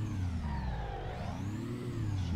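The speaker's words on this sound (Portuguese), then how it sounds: "Pega esse roncão." Scania 111s truck engine in Euro Truck Simulator 2 revving steadily, a loud, continuous mid-pitched drone whose tone rises and falls with the throttle, heard alone.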